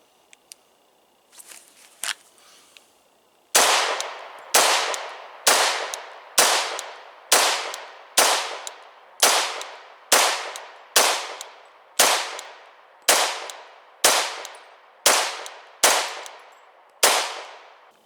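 A pistol fires during a low-light shooting drill, about fifteen loud, sharp reports evenly spaced roughly a second apart, after a few faint clinks and handling noises at the start.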